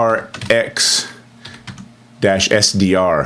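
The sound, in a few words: typing a command on a computer keyboard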